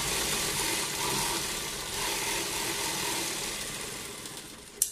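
A sewing machine stitches piping onto a garment sleeve, its motor running as a steady, continuous whir throughout, with a brief sharp click at the very end.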